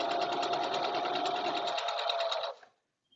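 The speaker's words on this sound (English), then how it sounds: "I'm sewing with turquoise thread because it seemed fun." A sewing machine runs steadily, stitching patchwork with turquoise thread in a home setting, a close, even mechanical whir with rapid needle pulses that stops abruptly near the end.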